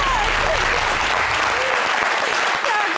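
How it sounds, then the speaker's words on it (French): A television studio audience claps in dense, loud, continuous applause for the full stretch, with no talk standing out above it. "Applaudissez."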